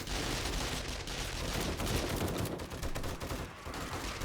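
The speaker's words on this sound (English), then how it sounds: "I feel like the guns are just way, way too loud at the moment." NPC gunfire in the zombie horde game 7 Days to Die, rapid bursts of automatic shots layered into a dense, continuous volley, fairly faint overall with no talk.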